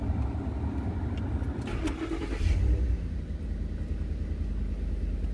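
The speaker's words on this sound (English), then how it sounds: "So rear window defrost, blower motor's working, everything's good." A Ford F-150 cab blower motor runs with a steady, close broadband whir, and a low engine hum sits underneath throughout.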